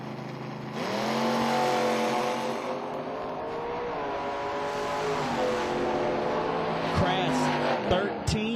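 A Camaro drag racing down the strip at a Kentucky dragstrip, its engine roaring loudly as it launches and then holding a sustained, revving drone as the car pulls away, with a track announcer talking over it.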